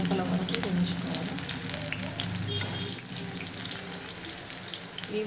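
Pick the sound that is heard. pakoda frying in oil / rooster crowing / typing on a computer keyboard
pakoda frying in oil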